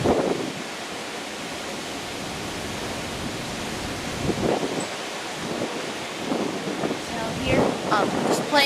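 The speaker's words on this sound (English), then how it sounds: "Obviously, it's super windy." Strong wind buffets the microphone on an Alaska cruise ship deck, a loud, roaring rush with gusty surges and a few brief voices in the background.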